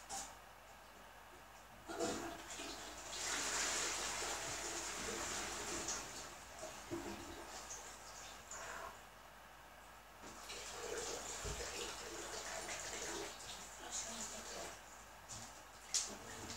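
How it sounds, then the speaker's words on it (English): A toilet flushes indoors, heard fairly faintly as a rush of water that swells and then fades into a longer hissing refill, with brief soft knocks. "if you heard the toilet flush"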